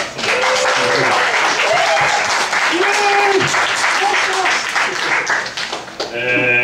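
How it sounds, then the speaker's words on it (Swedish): A crowd at a Swedish creators' meetup gives the organizers sustained, dense applause lasting several seconds, loud and close, with voices and cheers rising over the clapping. "kan vi ta en till applåd för arrangörerna?"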